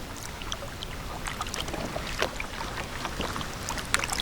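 Kayak paddling on a lake at Gouldsboro State Park, Pennsylvania, among pond lilies: soft, irregular water splashes and drips from paddle strokes close by, over a light wind hiss, with no voices.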